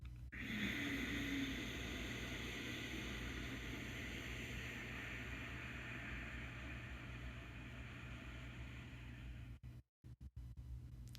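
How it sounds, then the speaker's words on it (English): During a breathing exercise, a long audible exhale with a sound in the throat runs as a steady, soft, airy hiss for several seconds, close and alone, then stops abruptly. "inhale above the collarbones, and then exhale with the sound."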